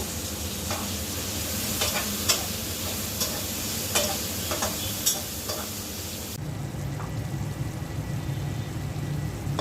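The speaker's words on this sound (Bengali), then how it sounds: "পেঁয়াজের মধ্যে টমেটোটা দিয়ে দিচ্ছি, টমেটো ভেজে নেব পেঁয়াজের সাথে।" Tomatoes frying with onions in a pan in a home kitchen, a continuous loud sizzle with intermittent sharp scraping clicks of stirring, the hiss easing somewhat partway through.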